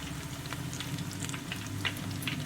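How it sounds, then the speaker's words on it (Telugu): Chicken leg pieces frying in oil over a low flame, a soft continuous sizzle with scattered light crackles and pops, fairly quiet and close. "లో ఫ్లేమ్లో వీటిని ఫ్రై చేసుకుంటూ ఉండాలి"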